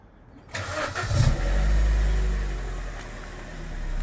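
BMW 1 Series fitted with a Toyota Supra exhaust box starts up, a cranking catch followed by a deep, steady idle rumble from the exhaust, close and loud.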